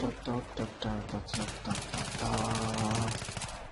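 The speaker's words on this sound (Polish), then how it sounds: "seriami się strzela od razu lepiej się ciska" Burst gunfire in the Battlefield 3 video game, rapid automatic volleys crackling in short runs while players talk over the shooting.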